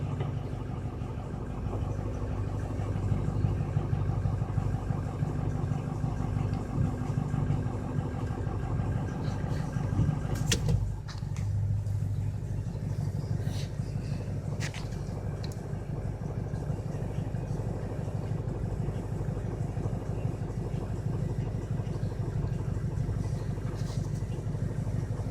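A 2006 Ford 6.0 Powerstroke diesel engine idles in a garage with a constant low, throbbing rumble that stays even throughout, with a few light clicks overhead.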